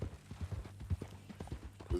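Horse hooves clip-clop in a steady, soft walking rhythm in the video game Red Dead Redemption 2, fairly faint and low with nobody talking.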